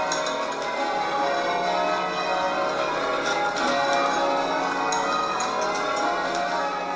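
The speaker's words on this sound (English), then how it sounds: "William specifically writes it sounded like the bells of Bury St. Edmund's Abbey" Dense, continuous ringing of many overlapping abbey church bells, loud and reverberant, clanging without pause throughout.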